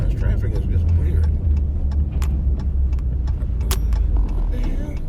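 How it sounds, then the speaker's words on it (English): Road traffic rumbles steadily from inside or near a car, a constant low engine and tire drone with scattered clicks and jingles, loud and continuous throughout. "This traffic is just weird."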